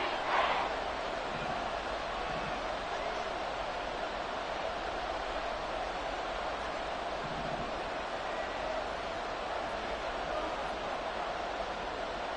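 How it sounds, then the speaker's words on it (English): Constant, moderately loud stadium crowd roar from a video football game, a broad wash of noise held steady throughout with a commentator's voice over it. "this crowd making it hard to hear"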